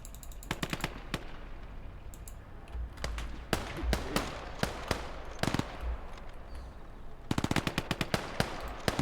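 A gun crew fires a machine gun in the Motherland war game: clusters of sharp rapid shots rattle out in bursts with short pauses between them, and the last burst is the longest. No one speaks.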